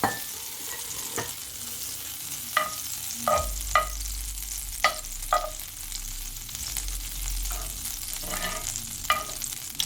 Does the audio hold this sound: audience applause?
no